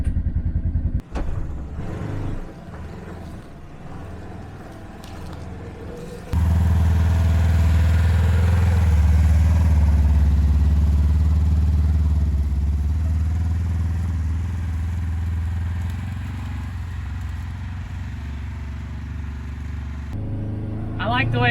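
A Polaris General XP4 side-by-side's engine runs steadily at a low, rumbling idle that jumps louder partway through and holds, with some clatter and a person talking over it.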